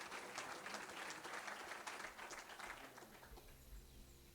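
Audience applause at a French business and local-government awards event, sustained even clapping that tapers off near the end as a low tone begins.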